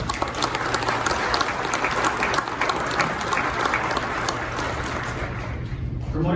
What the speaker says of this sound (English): A round of applause for Lieutenant Easter.